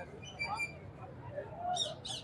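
A grey parrot at a crowded Sunday bird bazaar gives a few short calls, two louder bright squawks near the end, over a busy market murmur.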